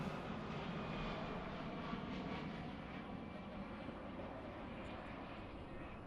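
An airplane passes overhead during an outdoor press conference in a park, a broad, steady engine roar that fills the background evenly without rising or fading much.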